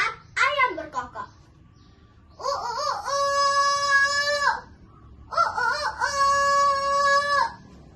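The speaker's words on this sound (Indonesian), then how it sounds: "terdengar ayam berkokok." A rooster crows twice, long and loud, after a brief higher-pitched call at the start, with quiet gaps between.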